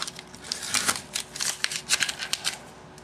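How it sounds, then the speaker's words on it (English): Tape is peeled off a Type R front lip being fitted to a 2002 Honda Civic, giving a close run of crackly, tearing rips in quick uneven bursts with no talking. "We can go ahead and take the tape off."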